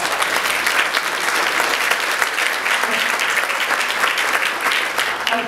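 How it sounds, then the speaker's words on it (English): Audience applause fills a hall at an annual celebration evening event, a dense, steady wash of many hands clapping close and loud for several seconds without pause. "So give yourselves a big round of applause."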